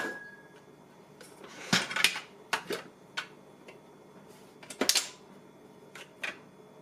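A KitchenAid 7-cup food processor chops red onion pieces in a few short, sharp pulses, each a clattering burst of blade and bowl separated by brief pauses.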